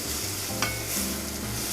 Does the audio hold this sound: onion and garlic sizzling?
yes